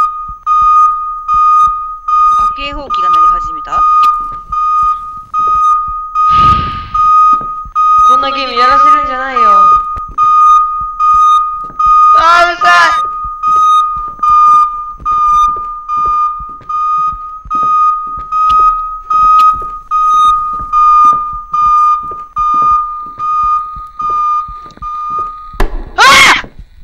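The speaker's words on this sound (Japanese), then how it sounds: "警報器が鳴り始めた？" A steady electronic alarm tone rings continuously inside the horror video game Mind Eye, set in a castle-like building, with bursts of voice breaking in over it and a sharper sound near the end.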